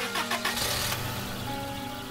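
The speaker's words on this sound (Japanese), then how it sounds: "私は光のごとき速さでエンジンを入れ、車を出した。" A car engine starts in a Japanese horror audio drama: a short cranking burst quickly catches and settles into a steady idle, fairly close and alone.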